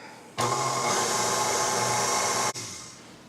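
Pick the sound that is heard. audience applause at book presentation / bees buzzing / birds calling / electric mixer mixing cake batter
electric mixer mixing cake batter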